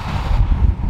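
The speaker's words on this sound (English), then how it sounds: "It is a bit windy today" Low, rumbling wind buffets the microphone in a steady, close roar.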